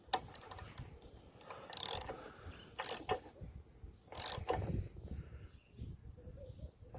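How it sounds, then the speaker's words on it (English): Ratchet wrench tightening a spark plug on a petrol lawnmower, quick bursts of sharp clicking pawl ratchets in several short strokes, close and fairly quiet. "Put the ratchet back on."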